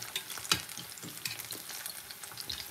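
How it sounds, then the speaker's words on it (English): Plantain fries in oil with a soft, even sizzle and a scattering of small crackles and pops, fairly quiet throughout. "this is also another way you can also fry plantain"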